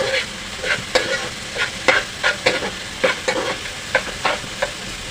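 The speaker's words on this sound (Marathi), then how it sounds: "गॅस फास्ट करून छानपैकी भाजून घ्या कांदा आणि टोमॅटो।" Onion and tomato roast over a high flame on a flat griddle while being stirred, giving a soft sizzle broken by about a dozen evenly spaced spatula scrapes and taps, close and clear with no talking.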